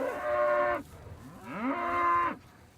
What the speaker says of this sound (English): The Basses run cattle as part of their operation, but these cattle are hormone-free and raised on grass